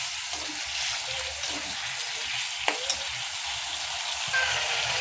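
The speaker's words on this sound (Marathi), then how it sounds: "आता याला मस्त उकळी येऊन देऊया" A prawn chilli sauce thickened with cornflour slurry bubbles and sizzles in a pan, a continuous close hiss with a few faint clinks and no talking.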